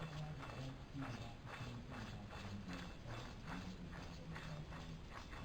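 A worn, rusty rear axle bearing from a Toyota Tercel 4WD spins with a steady rhythmic grinding and ratcheting clatter, fairly faint and continuous, with no voices.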